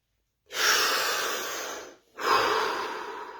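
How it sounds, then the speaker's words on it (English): A slow, deep breath during a guided relaxation exercise: a long airy inhale of about one and a half seconds, a brief pause, then another full breath, close and clear with no talking. "Take a deep breath."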